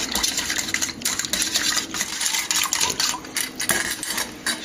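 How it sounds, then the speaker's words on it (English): Olive oil and anchovy dressing whisked briskly in a bowl, a steady close clatter of wire against the bowl with rapid scraping strokes, continuous throughout with no talk. "So now we've got that all nice and whisked up"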